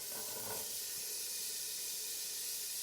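A chopped onion sizzles in a hot pan for mulligatawny soup, giving a soft, even hiss throughout that is fairly faint with no voices.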